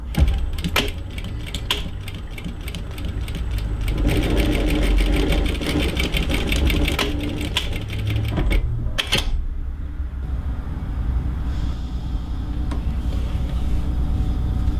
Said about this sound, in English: Present your work to the machine and you want to stitch on the edge of that angle.